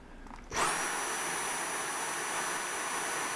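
A Dyson V7 Animal stick vacuum switches on at max suction, its steady high-pitched motor whine and airflow roar starting abruptly and holding loud and close with no talking.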